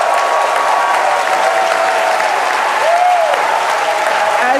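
A crowd watching the SpaceX Starship third flight test claps and cheers steadily at orbit insertion, a loud, continuous wash of applause with a faint tonal whine threading through it.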